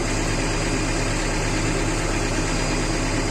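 A New Holland backhoe loader's diesel engine, with a suspected fuel pump fault that makes it stall under load, runs as a steady, close, unchanging low drone and vibration throughout, with no talking.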